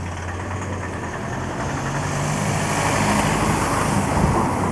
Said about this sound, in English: Oh, van coming. Let the van pass.